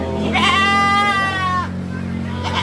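A goat, one of a holiday livestock stock in Indonesia, gives a single loud, drawn-out wavering bleat close by, then falls quiet amid faint background noise.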